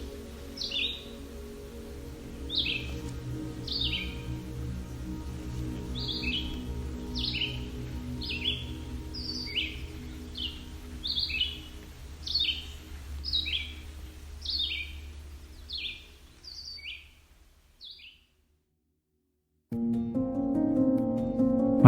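Several songbirds sing repeatedly in bright, high chirping phrases by Otter Lake on the Bruce Peninsula, over a low steady outdoor hum, stopping near the end before a brief louder rumble.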